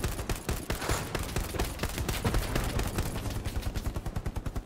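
Dense, rapid gunfire in the WWII shooter Hell Let Loose, with volleys of rifle and machine-gun shots crackling almost continuously, ending in a steady rhythmic burst of automatic fire up close.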